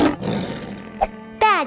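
A cartoon tiger growls and then lets out a loud, close roar with a rising harmonic cry at the end.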